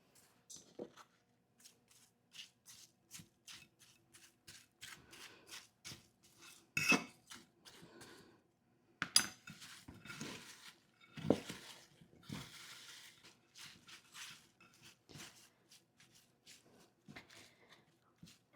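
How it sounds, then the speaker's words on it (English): Ingredients are mixed right in their own container with intermittent scraping, rubbing and clinking strokes, some louder bursts, close by and with no talk. "we're going to try to mix this into the container that it's in"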